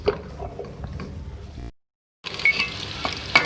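Green chillies sizzle and crackle in hot oil with okra and ridge gourd, a steady close frying hiss that cuts out briefly before resuming with sharper pops and spatters.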